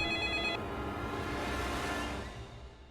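A telephone rings loudly in a horror video game, a steady electronic bell pattern that cuts off after half a second, leaving a dense droning, noisy ambience that slowly fades.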